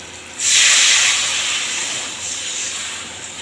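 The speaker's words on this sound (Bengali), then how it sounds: "এবারে পরিমাণ মতো জল দিয়ে দেবো" Water hits hot frying spice masala in a pan, setting off a sudden loud hiss that slowly eases into a steady steamy sizzle, close and without speech.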